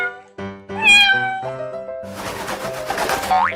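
A cat meows in a few close, tonal, bending calls, followed by a noisier, harsher stretch of sound mixed with squeaky effects in a playful cartoon setting.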